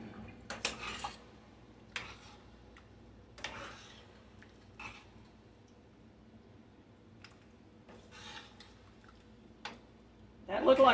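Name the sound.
stirring food with a spoon in a pot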